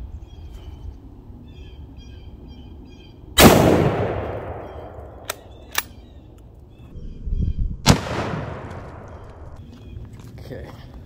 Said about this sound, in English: We're gonna go and shoot that same distance as the 30-06.